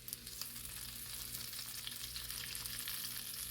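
Bacon frying on a flat griddle just after being flipped, giving a steady, dense sizzle and crackle that holds at an even level throughout with no voices.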